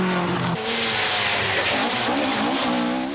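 A rally car from the 1982 Manx Rally races hard along twisting narrow roads, its engine loud and close, revs rising and falling through gear changes with a hint of tyre squeal.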